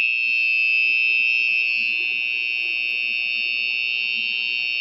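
A shadow sensor alarm gives a steady, piercing electronic buzz that drones continuously at close range, holding a constant high pitch with only a slight dip in loudness.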